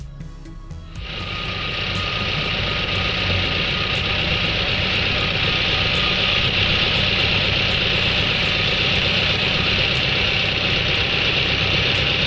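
A VW engine idles loudly and steadily during carburetor idle speed adjustment, a constant close drone that rises in the first second and then holds even, with no voices.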